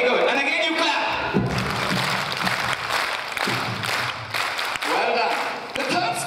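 An audience at a cultural night dance performance claps along continuously, the dense clapping blending with music and a voice talking over it.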